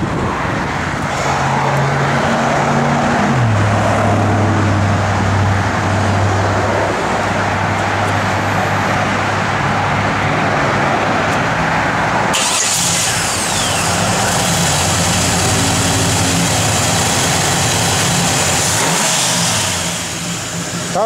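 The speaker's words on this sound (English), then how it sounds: "Go ahead and fire it up, Eddie." A 1973 Chevrolet Camaro RS/Z28 V8 engine runs loud and close, settling into a deep rumbling idle with a few shifts in pitch and blips of the throttle.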